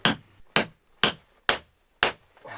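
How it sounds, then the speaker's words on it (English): Big metal spike driven into hard granite bedrock with a big hammer, five loud ringing blows roughly half a second apart, close with no other sound. "Second method, big metal spike and a big hammer."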